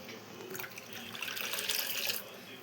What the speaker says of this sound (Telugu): అందుకని కొన్ని నీళ్ళు పోసుకుంటాం